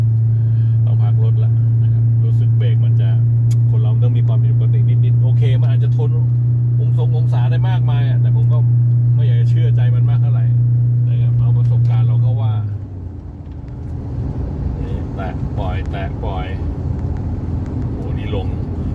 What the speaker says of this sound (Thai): ตอนนี้ค้างด้วยเกียร์สองครับ